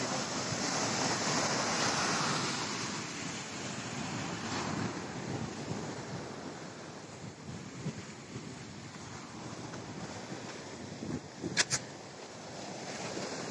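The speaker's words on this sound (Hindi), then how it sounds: "और पानी का लहर।" Sea waves surge and break continuously below Bekal fort, a broad steady roar mixed with wind buffeting the microphone, with a brief sharp click near the end.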